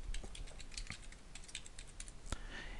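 Fingers typing a username and password on a computer keyboard to log in to a web interface, producing quick, irregular key clicks at close range with no talking.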